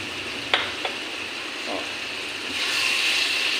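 Dates, mango leather and raisins get stirred into hot tomato chutney in a pan: a soft, steady sizzle with a couple of sharp spoon taps near the start and a brighter hiss swelling toward the end.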